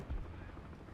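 A low, steady rotor thrum of a UH-1C helicopter in the video game War Thunder rumbles throughout, with a brief deeper thump near the start and no clear speech.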